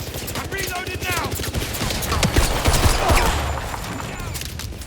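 Rapid automatic gunfire from 007 First Light, continuous loud bursts with sharp cracks throughout a combat firefight, plus shouted voices partly mixed in.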